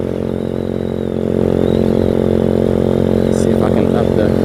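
A Venom X18 motorcycle cruising near the beach at about 45 mph and 5,000 RPM, its engine a loud, steady drone that swells slightly after the first second, with wind rush around it.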